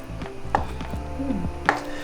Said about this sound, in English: Just chopping this up, like that.